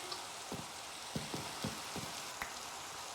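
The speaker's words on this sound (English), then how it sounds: "Why is it raining?" Steady soft hiss of rain falling in Minecraft, faint and continuous, with a few scattered soft taps and thuds over it and no talking.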